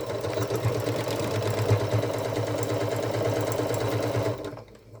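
Sewing machine stitching the fleece exterior of a Christmas stocking with a 3/8 inch seam, a steady close mechanical hum and rapid needle chatter running continuously, then stopping abruptly at the end.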